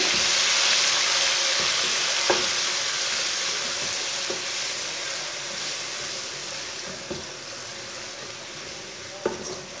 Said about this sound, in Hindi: टमाटर डाल के 2 मिनट तक भून लेंगे।